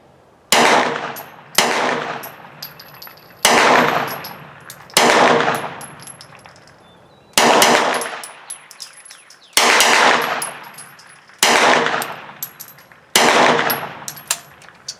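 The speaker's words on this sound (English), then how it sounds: "let's put a few down range and see if it functions and cycles" An early production Hi Point 995 carbine fires eight loud shots downrange at an outdoor range, spaced roughly every second or two, each a sharp crack followed by a ringing, metallic decay.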